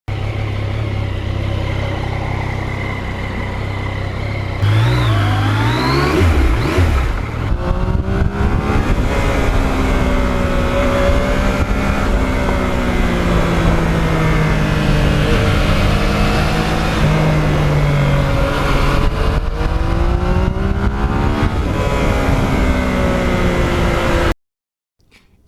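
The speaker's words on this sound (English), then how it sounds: "with the MT09, Yamaha got so many things right that, to me, make for a bike that's just fun to ride" A Yamaha MT-09 motorcycle engine drones loud and close while riding on the road, rising and falling in pitch as it revs and shifts through gears, with steady wind rush.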